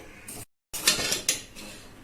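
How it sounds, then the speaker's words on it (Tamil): A utensil scrapes and clinks against a pan in short stirring strokes as jaggery dissolves, close and moderately quiet, with a brief gap of silence. "வெல்லத்தை இப்ப கரைச்சி எடுத்துக்கணும்."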